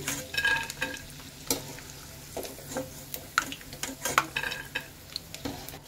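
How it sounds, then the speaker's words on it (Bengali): Two dried red chillies fry in oil in a pan with a soft, low sizzle. Sharp scrapes and clinks of stirring punctuate the sizzle at irregular intervals, with no talking over it. "এবারে শুকনো লঙ্কা দুটো ভেজে নেব"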